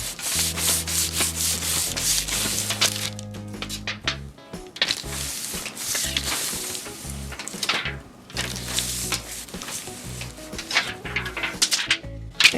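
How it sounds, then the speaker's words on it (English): An aluminum can is rubbed back and forth along the edge of a table, giving a loud, continuous scraping and grinding in repeated strokes with brief pauses between passes. "I'm going to rub it along the edge of the table a couple of times"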